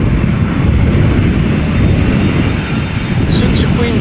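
A white-nosed KLM Boeing 747, registration PH-CKA, arriving, heard as a steady, loud broadband jet roar with wind buffeting that holds throughout.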